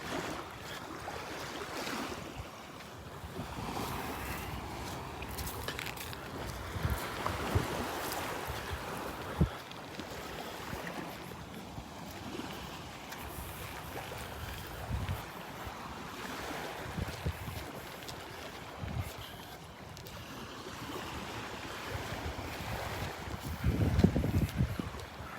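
Wind blows across the microphone on a beach at Delnor-Wiggins during a morning walk, a rough steady buffeting with low gusty rumbles and surf-like wash, no talking.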